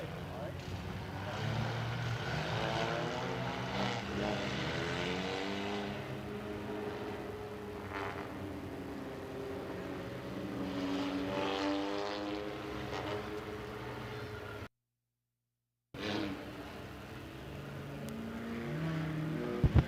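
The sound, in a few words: race cars racing on oval track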